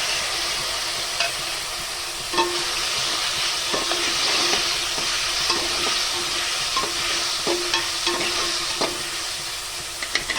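Onions and tomatoes sauté in a pan for mutton curry, a steady close sizzle punctuated by regular spatula scrapes and taps against the pan.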